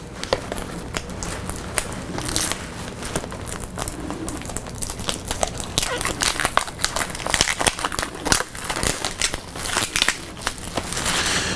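Trading card pack wrapper from 1994 Wheels High Gear Series II being torn open, a long run of close, loud foil crinkling and crackling with sharp tearing bursts.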